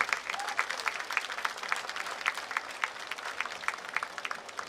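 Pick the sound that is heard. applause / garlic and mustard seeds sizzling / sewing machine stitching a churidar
applause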